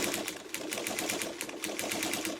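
A sewing machine top stitches along the edge of a fabric potholder, running close up with a rapid, even mechanical needle rhythm and no break or voice.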